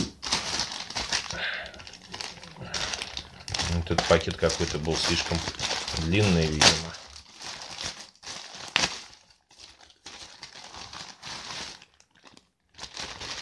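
A plastic package bag from a metal construction kit crinkles and rustles in bursts of handling, while someone talks in Russian over and between the noises.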